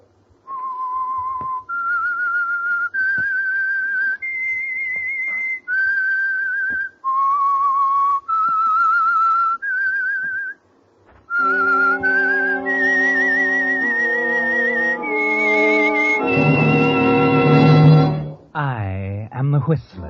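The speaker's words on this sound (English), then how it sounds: "That whistle is your signal for the Signal Oil Program" A radio drama's whistled theme: a clear, solo whistled melody of steady held notes, loud and close, followed by a fuller orchestral passage that rises into a swelling, wavering finish.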